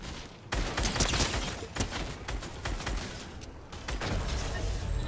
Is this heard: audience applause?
no